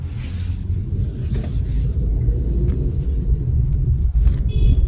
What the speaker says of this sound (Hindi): विनय पीछे भाग रहा है हमारी गाड़ी के।